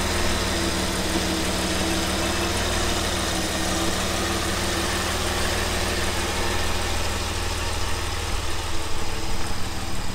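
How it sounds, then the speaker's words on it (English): A 1978 Jaguar XJ6 engine idles steadily at 750 rpm, a continuous low, even rumble with a faint ticking texture, close and unbroken with no talking. "So we've got it sitting ticking over at 750 revs, which is what it should."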